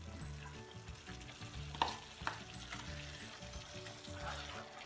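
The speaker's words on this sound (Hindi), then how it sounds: "अब इसमें हम ये कर्ड का पेस्ट डाल देंगे" Curd paste sizzles in a hot pan for tandoori gobhi, a steady low crackle with a couple of sharper pops and light stirring throughout.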